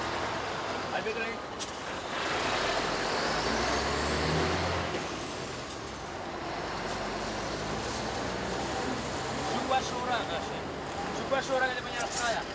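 A truck engine runs steadily nearby at a landslide site in Campolongo, a continuous low rumble with a rising whine in the middle, while people talk over it.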